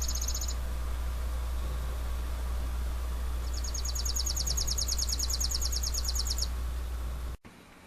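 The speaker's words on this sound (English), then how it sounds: "As you can hear, the chipping sparrow's song sounds very similar to a 1950s mind control device." A chipping sparrow gives a rapid dry trill, one brief burst at the start and a longer even rattle midway, faint over a steady low background hum.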